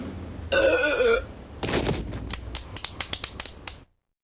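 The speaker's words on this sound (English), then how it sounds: "Watch this, the burp champion of the world." A cartoon boy lets out a loud, drawn-out burp, followed by a rattling series of shorter gulping, clicking burp sounds that trail off into silence.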